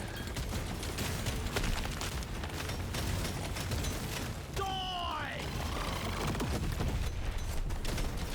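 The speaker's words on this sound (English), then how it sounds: "This should be a big chain of explosions, hopefully." A chain of explosions in Deep Rock Galactic Survivor, a steady wash of popping blasts and rumbling booms that sits under someone talking, with a brief descending tonal effect partway through.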